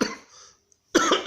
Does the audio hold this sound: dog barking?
no